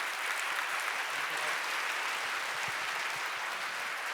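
A church congregation applauds at a young adults' worship service after a baptism. Broad, even clapping from many hands carries steadily throughout at a moderate distance, with no talking over it.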